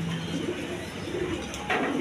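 Indian Kagji pigeons cooing close by, low hollow coos rising over a steady ambient hum, with a brief brighter sound near the end.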